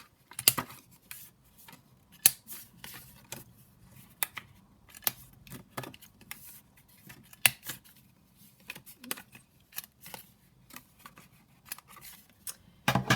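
Scissors snip through a pink paper tag, trimming it down and rounding its corners: a string of short, crisp, close cuts at an irregular pace, quiet in between, with no talking.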